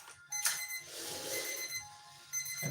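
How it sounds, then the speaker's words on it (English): A kitchen timer beeps during bread baking, a faint repeating electronic alarm tone with a high ringing quality, heard under a quiet kitchen background with a few soft knocks. "That's beeping, so I'm gonna stop it."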